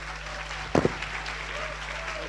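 An audience at a general assembly session in Chania applauds, a soft, distant wash of clapping under a steady hum, with a brief louder burst of nearby noise early on.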